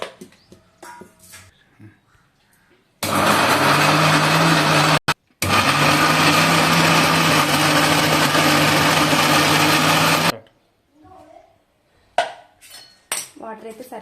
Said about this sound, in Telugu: ఫస్ట్ అయితే ఇది మిక్సీ పట్టేసుకోవాలి